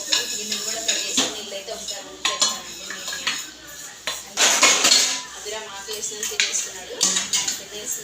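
Pots, dishes and cutlery clatter and clink at close range during kitchen cleanup, in irregular bursts of scraping and knocking with brief pauses between them.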